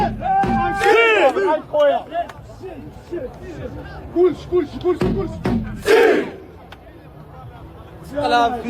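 A Moroccan crowd cheers and shouts in loud rhythmic chants, voices rising and falling together in repeated bursts, with a brief lull before the chanting swells again.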